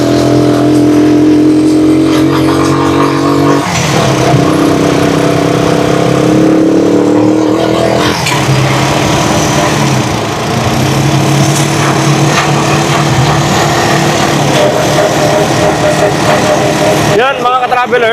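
A Rusi Chariot 175 motorcycle engine labors loudly and steadily uphill while hauling ten water containers, its tone shifting with gear and load changes, speech mixed in throughout.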